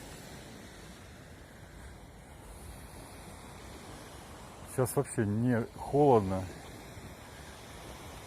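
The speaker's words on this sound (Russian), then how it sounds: "Море такое классное." Sea waves washing along an evening seafront in Turkey, a soft continuous surf wash under light wind, with a person speaking briefly over it partway through.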